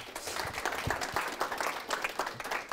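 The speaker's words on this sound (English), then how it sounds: "Give him a round of applause." Scattered audience applause at a live office event, a steady patter of clapping at moderate volume with no talk over it.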